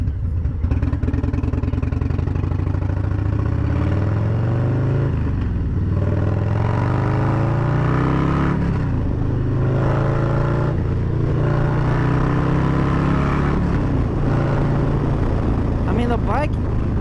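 Motorcycle with a Fuel Moto tune being ridden, its engine a loud, continuous drone that climbs and drops in pitch through repeated throttle changes, with wind noise throughout.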